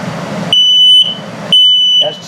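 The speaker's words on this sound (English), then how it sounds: "That's showing you what the low battery alarm sounds like." Two loud, high-pitched low-battery beeps from a smoke alarm in a 2020 Starcraft Autumn Ridge 261BH RV sound about a second apart, each held for half a second, over a quiet background murmur.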